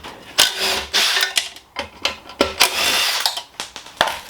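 A power drill fitted with a hex adapter runs in repeated short bursts on a Honda B20A6 engine during teardown, each whir starting and stopping with brief pauses and clicks between them, close and loud.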